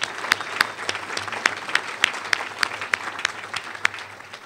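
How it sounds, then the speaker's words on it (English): Audience applause for board members at a Chicago Community Trust event, a steady crowd clapping with sharp individual claps standing out throughout. "So just a round of applause for those of you who are board members"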